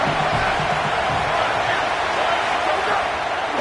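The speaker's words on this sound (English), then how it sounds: "how nice is it to have the home crowd going absolutely bananas?" Home crowd at a football game against Hawaii cheering loudly and continuously, a dense, steady roar of voices that fills the whole stretch without letting up.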